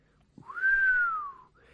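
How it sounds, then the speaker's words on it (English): A man whistles a single rising-then-falling note outdoors near two parked cars, a clear, sustained tone lasting about a second, heard alone without talk. "Elsingham whistled."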